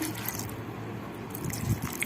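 A little water trickles into butter being ground to make desi ghee, a soft steady pour running under a faint whirr.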